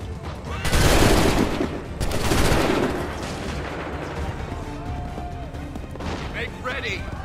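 Musket and cannon volleys boom out in an Assassin's Creed III battle, with two heavy roaring blasts early that rumble and fade into lingering battlefield noise, with shouted commands around them.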